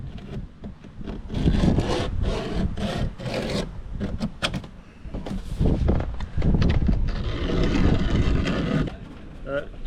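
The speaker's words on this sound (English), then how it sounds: "Does a good job of deburring." A deburring tool scrapes around the freshly cut metal hole in a Ford Transit camper van roof for a fan, producing loud, close, continuous rasping and grinding in uneven strokes.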